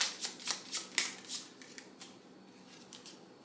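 A deck of tarot-style cards is shuffled close by in a quiet room, a quick run of crisp riffling bursts that fades into softer shuffling and settles near the end.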